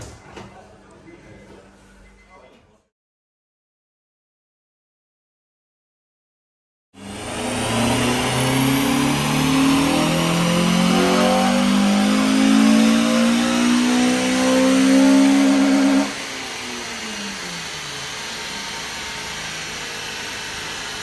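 A Honda Civic FN2 Type R engine revs up hard on a dyno power run and holds at high speed for several seconds before dropping back, loud and close, after a short quiet gap.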